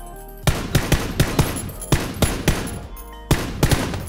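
Rapid, loud UMP submachine gun bursts in PUBG, a string of sharp close shots in quick clusters with short pauses between, standing alone without talk.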